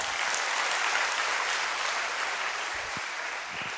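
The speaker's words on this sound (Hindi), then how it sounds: "मैंने ताली बजाई" Steady, dense clapping from several hands, loud and continuous like brief applause, with no voices over it.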